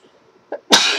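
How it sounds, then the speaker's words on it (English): One loud, close sneeze bursts out after a brief catch of breath, sharp and breathy, then trails off. "I'm going to sneeze, guys."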